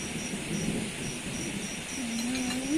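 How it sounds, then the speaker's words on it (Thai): Steady rainfall with low rolling thunder rumbling throughout, a dense continuous hiss over deep grumbling, heard from a rural home during a storm. "ฝนตกกินบรรยากาศ"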